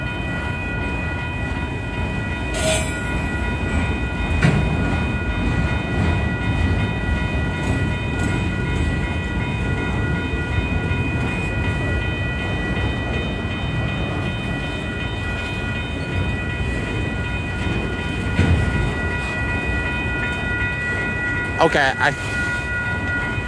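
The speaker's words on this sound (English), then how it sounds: "the train's still moving, albeit very slowly" Union Pacific 8133, an inbound manifest freight train, rolls slowly past Lindsay Road with a continuous loud rumble and steady squeal of wheels, a horn note sounding briefly, while someone speaks a few words.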